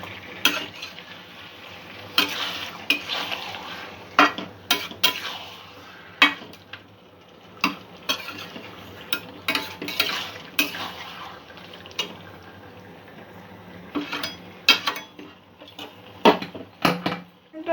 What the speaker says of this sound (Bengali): মাংসটা কিছুক্ষণ কষতে দেব